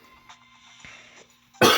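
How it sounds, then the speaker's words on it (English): A person fighting a cold lets out a single sudden, loud, harsh cough at the end, close to the microphone, after a near-silent stretch with faint background noises. "I have a bit of like a cold and I keep fighting a cough every time I talk"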